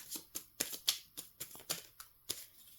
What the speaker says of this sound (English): Let's do a little more shuffle.